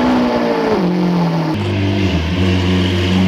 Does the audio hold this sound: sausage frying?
no